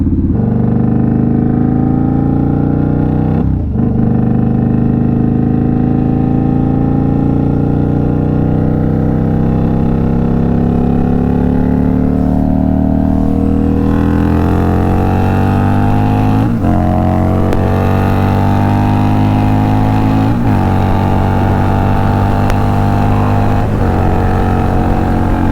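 Indian Scout Bobber motorcycle with aftermarket exhaust cruising on a highway in sixth gear around 80 mph, a loud, steady low drone with wind rush, broken by a few short throttle dips and slow climbs in pitch.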